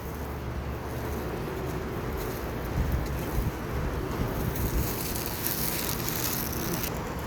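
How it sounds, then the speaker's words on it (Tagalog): Wind blows steadily outdoors near a hospital parking area, a loud broadband rush buffeting the microphone with slight gusts midway, no voices. "Mahangin sa labas."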